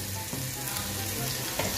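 Onions frying in a pan give a steady crackling sizzle with a couple of sharp spatters, heard up close for a brief moment without talk.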